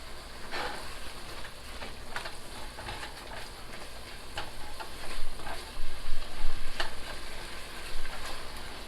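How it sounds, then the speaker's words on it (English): Minced garlic sizzles and crackles in hot oil in a pan for an old-school goulash, a steady close frying hiss with scattered pops and stirring scrapes that get louder toward the end. "I'm going to add in some minced garlic."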